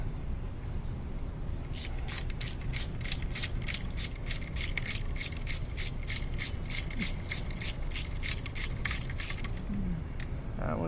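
A ratchet with a 5mm Allen bit loosens oil pan bolts on a VW 1.9 TDI, producing a fast, steady run of close metallic clicks for several seconds over a low background hum.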